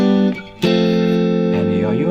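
An electric guitar with effects plays the chorus riff of a song, loud sustained chords with a brief dip and a fresh strum, ringing bright and distorted.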